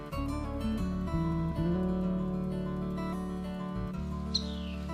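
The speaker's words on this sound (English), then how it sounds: "Birds of all kinds are nesting in the rocky overhangs once again." Small birds chirp in the Big South Fork forest, with thin, high tweets heard over a steady, loud low rumble and hum.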